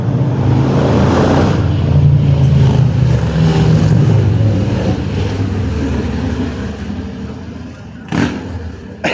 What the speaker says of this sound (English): those some big ass bikes.